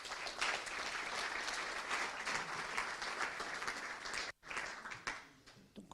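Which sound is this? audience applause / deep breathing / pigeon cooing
audience applause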